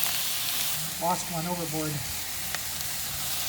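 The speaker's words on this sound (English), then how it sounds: "My zucchini is sort of frying away there." Zucchini frying in a pan for ratatouille, a steady close sizzle and hiss running throughout while someone speaks briefly over it.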